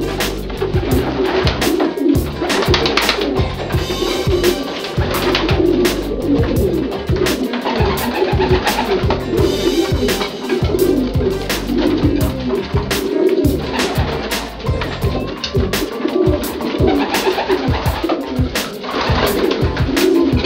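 Pigeons in a pigeon loft coo continuously and close by, their soft repeated throaty calls overlapping throughout, with occasional wing flutters and shuffling.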